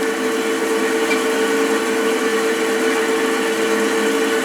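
A Sears slo-speed saw converter runs steadily at about 71 RPM, giving a loud, continuous mechanical whir with a stable tonal hum and no talking over it.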